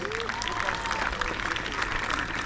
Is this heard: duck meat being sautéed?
no